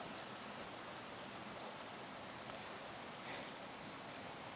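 Spring water flows steadily at a farm in Norway, a faint, even hiss of rushing water that holds constant without breaks or voices.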